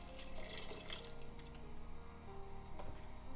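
Stock poured into a pasta sauce in a home kitchen, a steady close liquid trickle with faint splashing that runs throughout, no talking.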